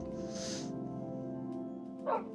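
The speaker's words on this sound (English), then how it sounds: "A wolf." A Minecraft wolf in a modded hardcore world gives short dog-like yips and whimpering tones, steady at first, then a sharper burst near the end, with no talk.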